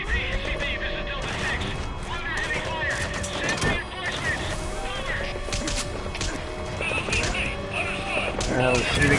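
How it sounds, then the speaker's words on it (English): Rapid video game gunfire from Metal Gear Solid V: The Phantom Pain rattles in sustained bursts with crashing impacts, loud and continuous, while voices talk over the shooting. "Oh, shooting at me."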